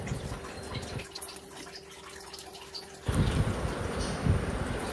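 Soya chunks being washed and squeezed by hand in plain water: soft sloshing and splashing, quieter in the middle and then a louder burst of running, squelching water near the end, no talk.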